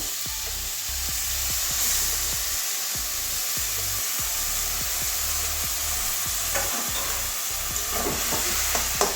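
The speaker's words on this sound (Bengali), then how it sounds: "এবারে মশলার সঙ্গে ভালো করে কষিয়ে নেব দু মিনিট কষাবো" Grated ash gourd is stir-fried with spices in a pan, giving a steady sizzle with regular scraping strokes of a spatula, close and continuous with no talking.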